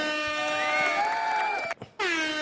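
An air horn sound effect blares loud and steady on a reader's live stream for about a second and a half, cuts out briefly, then blasts again.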